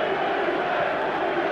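A packed football stadium crowd roars through a Champions League night match between Manchester United and Barcelona, a dense, continuous wall of cheering with no break.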